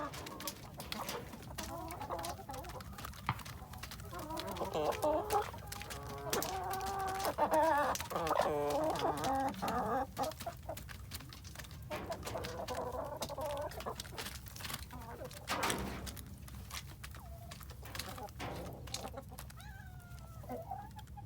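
A backyard flock of homestead chickens suffering from fowl pox clucks continuously around their feeders, a busy, overlapping chorus of close clucks and squawks.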